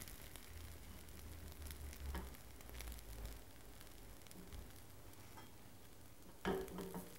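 A freshly flipped pancake cooks in a pan with a faint, soft, continuous sizzle, a low hum underneath and a short clatter near the end, no voices.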